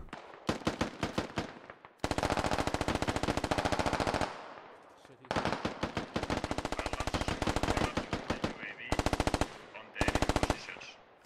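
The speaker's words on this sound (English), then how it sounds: "Shots coming in pretty strong here." Automatic rifle and machine gun fire in the tactical shooter game Squad, loud and near, with long sustained bursts and shorter volleys separated by brief pauses.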